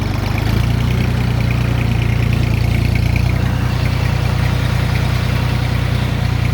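A Jinma 244 Lux tractor with a 24-horsepower engine idles close by, a loud, steady, low diesel rumble that holds an even throb throughout without any speech.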